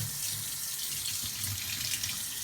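Lukewarm water pours steadily from a tap into a sink for soaking freestanding lace embroidery, a continuous bright splashing rush throughout with no voices.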